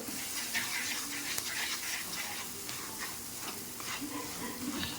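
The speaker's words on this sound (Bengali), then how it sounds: "এগুলো আবার একটু ভালো করে কষিয়ে নেব" Cumin, cumin powder, turmeric and salt sauté in a pan for a village-style tilapia fish curry, giving a faint, continuous sizzle with soft stirring scrapes throughout.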